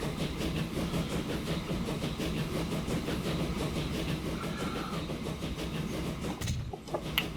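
In the Transport Fever game, a freight train loaded with iron ore rolls along. A continuous rumbling clickety-clack carries on steadily, then cuts off abruptly near the end.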